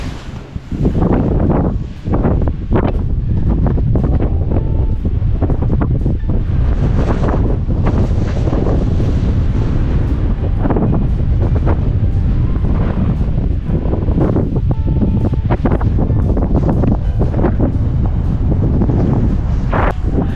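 Strong wind roars across the microphone on a foggy Great Smoky Mountains hike, a loud, unbroken buffeting rush with gusty surges that lasts throughout, with no voices.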